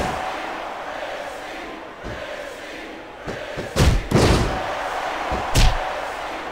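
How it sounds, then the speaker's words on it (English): A wrestling arena crowd at the WWE Vengeance 2005 women's championship match roars steadily, broken by heavy thuds and slams from the ring, with the crowd swelling after the impacts. "I can't remember the last time I seen a crowd so pumped up."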